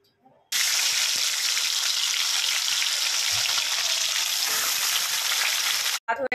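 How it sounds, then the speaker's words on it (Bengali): Fish frying in a pan at home, a steady close crackling sizzle that runs for several seconds before stopping abruptly. "এখানে আমার মাছ ভাজা কমপ্লিট হয়ে গেছে, নামিয়ে নিয়েছি।"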